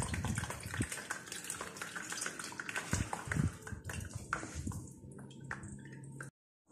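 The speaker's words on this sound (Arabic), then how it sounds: "نقعدو نحركو حتى يهبط العصير نتاعنا الكل" Zgougou (Aleppo pine seed) juice drips and squelches through a sieve while being stirred, wet splashing and scraping for several seconds, close and moderately loud, thinning to scattered drips before a brief silence.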